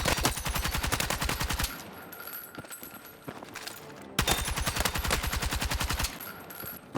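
Rapid automatic hip-fire gunshots from a weapon in Battlefield 6 ring out in two long, dense bursts, separated by a quieter gap with scattered clanks and game ambience.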